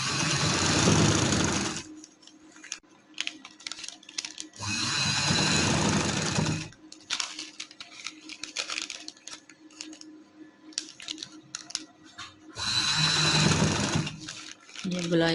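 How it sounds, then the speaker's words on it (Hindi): A sewing machine stitches a black trouser in three loud, steady whirring runs of rapid needle clatter, each a few seconds long, with quieter pauses between them where a person talks. "ट्राउज़र पे रख के हम इसकी सिलाई पे सिलाई लगाएंगे।"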